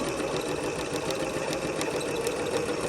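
A sewing machine runs steadily, stitching a French seam in fabric, with a continuous close mechanical whir and a rapid needle patter throughout and no talking.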